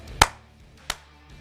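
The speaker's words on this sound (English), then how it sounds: "Hand clap for Matt House in the house." Two sharp, dry hand claps ring out alone, spaced about two-thirds of a second apart, with the first one louder and the second a little softer.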